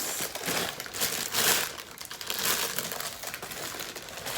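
A plastic shopping bag is handled and crinkled up close while a children's craft is being prepared, giving a continuous, fairly loud crackling rustle with several stronger bursts and no voices.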